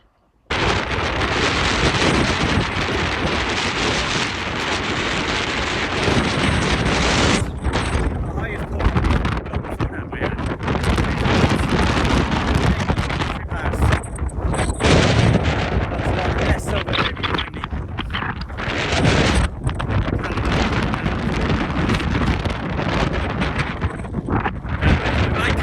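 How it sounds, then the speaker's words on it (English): Howling wind buffets the microphone on an exposed Scottish ridgeline, a loud continuous roar with gusty dips and surges running the whole length, drowning out everything else. "there was an absolutely howling wind at the top"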